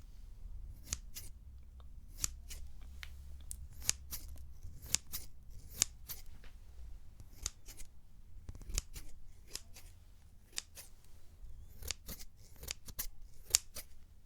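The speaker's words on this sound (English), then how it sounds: "let's have a little listen to the sounds of the scissors" Close, crisp snips of scissors cutting, irregular bursts of sharp clicks over a quiet low hum, no talking.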